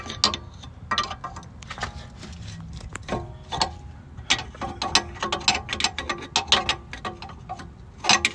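A ratchet wrench tightens the MaXpeedingRods coilover suspension on a G37X coupe, giving bursts of quick, close clicking with short pauses in a garage setting. No one speaks.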